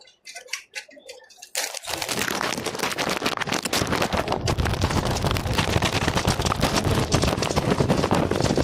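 A push cart carrying camera gear rolls noisily along, a dense continuous rattle and clatter that starts abruptly after a quiet opening and stays loud and steady to the end, with no talk.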